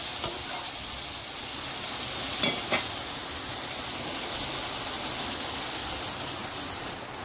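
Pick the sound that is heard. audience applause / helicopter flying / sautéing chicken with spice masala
sautéing chicken with spice masala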